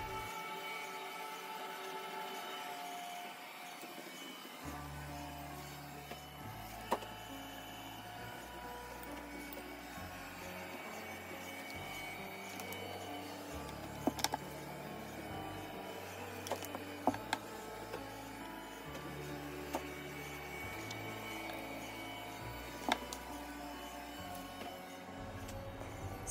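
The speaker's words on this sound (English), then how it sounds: "I didn't realize that my Roomba, which was in the other room, was making that much noise" A Roomba robot vacuum runs in another room, giving a steady, muffled mechanical hum with a shifting low drone and a few faint clicks and bumps, with no talking.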